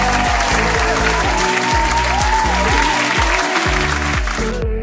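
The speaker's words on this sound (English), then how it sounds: "give yourselves a big round of applause" Dense, loud clapping from a crowd fills the whole stretch as a steady round of applause, with a musical tone running underneath, ending abruptly.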